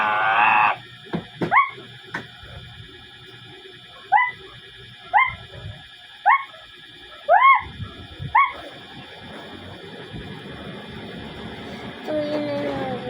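A dog gives a run of short yips and barks mixed with whimpers, spaced every second or so, close and fairly loud in a quiet room.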